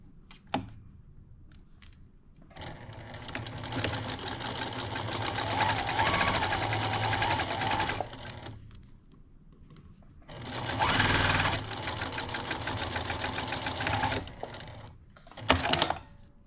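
A sewing machine stitches the seam of a patchwork Christmas stocking in two long, steady runs of rapid mechanical whirring, broken by short pauses and light handling clicks.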